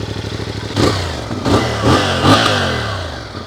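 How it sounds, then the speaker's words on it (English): A CFMoto 450 MT motorcycle engine idles steadily with a low rumble, punctuated by a few short revs that swell louder and then settle back. "The engine is not noisy, I'll say it's a normal sound."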